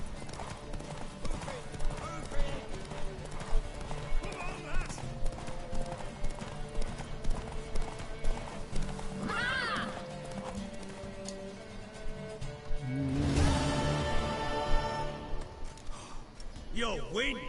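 A horse in The Witcher 3 gallops with a rapid, steady clip-clop of hooves, breaking into a couple of loud whinnies toward the middle and end while game characters talk over it.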